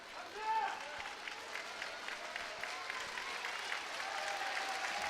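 Home crowd cheering and applauding for the local player at a Korea Open 2018 quarterfinal table tennis match in an arena, a steady, dense roar that swells briefly near the start and keeps going.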